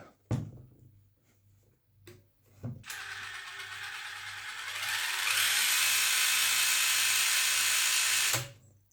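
A Hobbywing Fusion 2-in-1 1800kv motor in a TRX4 RC truck runs at low speed. A few sharp clicks come first, then a steady close whine for about five seconds that grows louder halfway through before cutting off abruptly. No one speaks.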